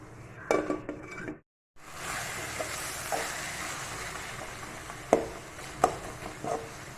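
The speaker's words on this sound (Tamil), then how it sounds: "நல்லா கலந்து விட்டாச்சு மூடி வச்சிடலாம்" A lid clinks onto a pan of tomato chutney with salt and chili powder, a few sharp metallic taps standing out over a steady low sizzle, with a brief dropout early on.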